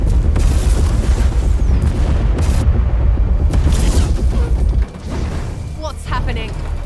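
Ship guns open fire in Warhammer 40K Chaos Gate Daemonhunters: heavy booming salvos and mechanical clanks roll loudly, then ease into a lower rumble. Voices speak over the barrage.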